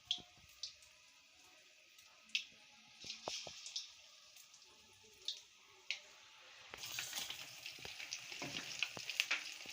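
Marinated fish pakora is lowered into medium-hot oil, with faint scattered clicks and drops giving way to a building, louder crackling fry that fills the last few seconds.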